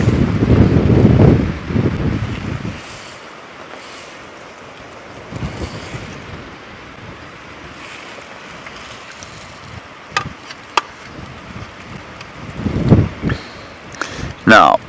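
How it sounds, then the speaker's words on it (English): Blustery wind on a cold October morning safari drive buffets the microphone in heavy gusts, surging loudly at the start and again near the end, with people talking intermittently. "it really is getting very blustery"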